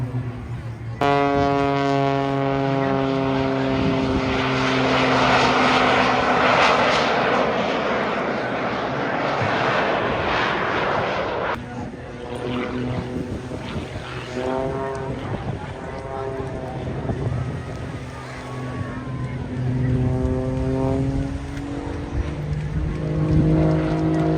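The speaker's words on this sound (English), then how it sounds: "today is traveling by at approximately 250 knots or close to 450 kilometers an hour" A turboprop aircraft with a Pratt & Whitney PT6A engine flies past at an air show at around 250 knots, its loud droning tone swelling then shifting pitch as it passes, with a commentator talking over it.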